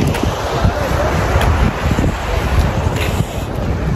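Strong wind buffets the microphone at Saif ul Malook mountain lake in Naran, a loud, steady roar with rumbling gusts and no clear voices.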